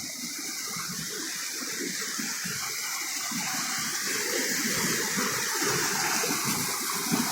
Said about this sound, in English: So in this way the water is flowing, guys.